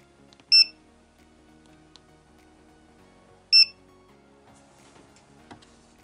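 A buzzer on an ESP32 TTGO lottery number generator gives two short, sharp high-pitched beeps about three seconds apart, clear and close over near silence.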